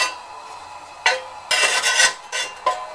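A metal tool scrapes and shoves ash across the fire bricks lining a stove, giving several close, gritty scraping strokes in short bursts separated by brief pauses.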